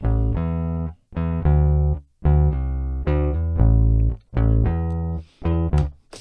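Rickenbacker-style bass guitar plugin at its default setting, harsh and bright, playing a series of sustained notes and short phrases with brief gaps between them, loud and alone.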